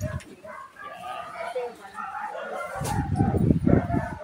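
Dogs barking near a small variety store in the Philippines, several sharp yelps and barks rising at the end, partly mixed with someone talking.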